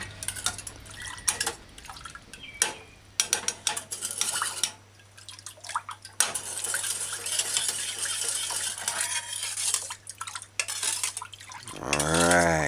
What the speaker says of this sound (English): mix the sugar in properly before you taste it